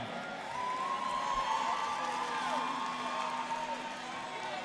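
Audience at a San Diego versus Team Legit game event cheering and whooping for the San Diego side, a steady crowd roar with scattered shouts and whistles throughout.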